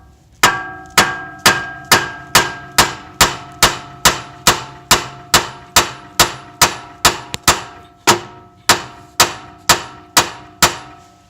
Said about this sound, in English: We'll use the almighty hammer for this. Just give it a few good whacks